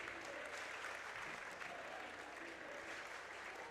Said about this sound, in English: Hatlovig, the senior forward, receiving a round of applause.